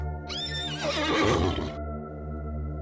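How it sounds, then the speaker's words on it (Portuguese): A single horse whinnies loudly and close by, a rising, shaky neigh that lasts about a second and a half over a faint steady hum. "De repente, um outro relincho"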